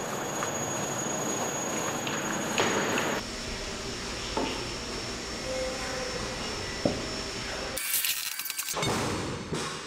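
A single rail car rumbles slowly into a large environmental test chamber with steady mechanical noise, a few clanks and a sharp metallic burst near the end.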